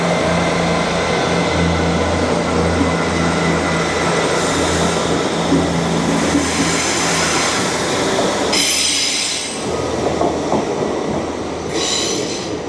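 A passenger train departing a station for Carlisle, rumbling and clattering along the rails at close range with wheel squeal and metallic screeches rising in the second half, loud and alone without talk.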